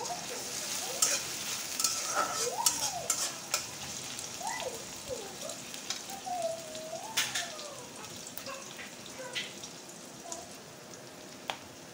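Chopped onions fry in a pan of oil for a soybean and potato curry, giving a steady crackling sizzle with scattered stirring clatters and a few soft scrapes, no talk.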